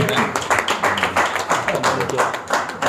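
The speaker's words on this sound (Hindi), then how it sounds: "जोरदार तालियां सर।" Loud audience applause at a lawn tennis event auction, with brisk, dense clapping carrying throughout and voices talking over it.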